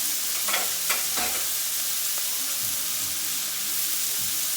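Small steak pieces frying in a pan, a bright continuous sizzle and hiss close by with a few brief clinks and scrapes early on, no talking.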